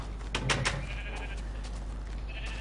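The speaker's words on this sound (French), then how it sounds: "Un clic droit sur un mouton, la laine tombe, mais le mouton n'est pas mort." Sheep bleating in Minecraft, a few short bleats near the start over a steady game background hum, followed by fainter clicks as wool is sheared.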